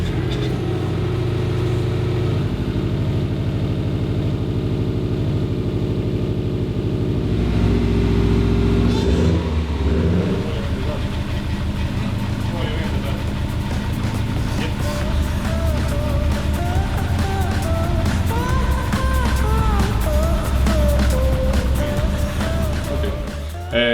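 Rebuilt Subaru WRX STI engine cranking and starting, then idling and revving with a steady rumble, loud and close in a workshop.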